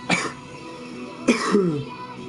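A person coughs twice, two short, harsh bursts a little over a second apart, heard close against a quiet room hum.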